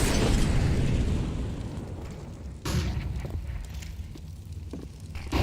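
Grenades bursting during a professional Counter-Strike match, a loud booming blast followed by rumbling debris, then a second sharp detonation midway and fainter crackles, with no talk over them.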